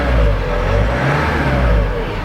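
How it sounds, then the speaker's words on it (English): Renault Trafic van engine with a newly replaced MAF air flow sensor, revving steadily and smoothly, a loud continuous mid-range drone with slight swells, no talk over it. "It's revving properly now"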